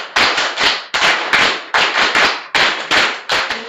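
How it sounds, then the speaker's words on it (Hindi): Three rounds of sharp, loud group clapping from a training-session audience, each burst fading before the next starts again, with no voices over it. "तालियों से स्वागत करें।"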